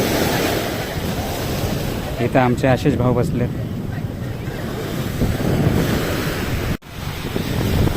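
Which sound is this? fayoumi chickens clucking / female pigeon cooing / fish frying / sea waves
sea waves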